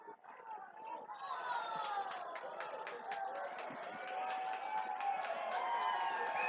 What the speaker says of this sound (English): there's some cheering going on here for something